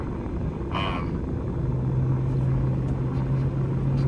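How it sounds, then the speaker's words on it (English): A helicopter drones steadily overhead, a constant low rumble with a faint humming tone that holds throughout, no voices. "So there's a helicopter straight up above."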